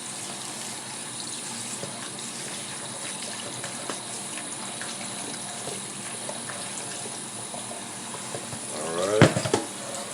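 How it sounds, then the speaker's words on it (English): Shredded collard greens are rinsed under a running tap, a steady close hiss of flowing water, with a brief louder splash near the end and a short spoken word. "with any greens or with anything that we're cooking, we want to rinse it off"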